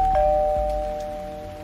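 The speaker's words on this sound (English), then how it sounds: "It's the doorbell." A doorbell rings once with a bright, sustained electronic tone that slowly fades over a low steady hum.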